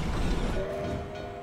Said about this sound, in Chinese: 火车